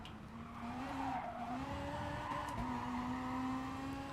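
Car tyres squeal in a sustained skid under braking over a crest in the GT Sport racing game, engine droning beneath, steady and moderately loud with no talk.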